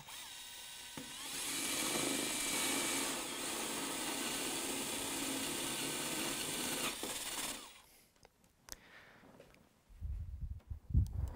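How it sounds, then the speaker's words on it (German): A Festool cordless drill with a Forstner bit whirs steadily and loudly for several seconds boring a door peephole hole, then stops, followed by quieter handling clatter and a few low bumps. "wir sitzen hier an und bohren es hier in dieses kleine Loch rein"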